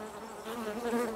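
A close, steady buzz of many Russian honey bees humming together in a two-deep hive, slightly rising in loudness, with no talking.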